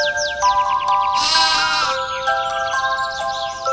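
A sheep bleats in a lively, wavering burst over a steady background of electronic tones and chirpy bird-like synth sounds, part of a children's animal-sounds lesson with a village atmosphere.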